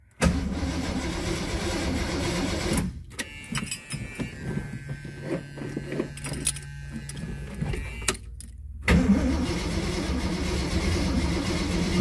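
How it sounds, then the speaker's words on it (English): A 1979 AMC AMX with a Carb Cheater fitted cranks loudly and steadily on a start attempt, the starter churning for several seconds without catching, then a brief pause and the cranking resumes; the car has no spark. "first initial fire up with my Carb Cheater installed on the AMX"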